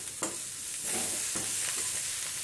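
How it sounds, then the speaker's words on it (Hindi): Potatoes and capsicum frying in a pan while being stirred, a close sizzling hiss with a few soft scrapes of the spatula. "ये देखिए, शिमला मिर्च भी हमारी पक गई है।"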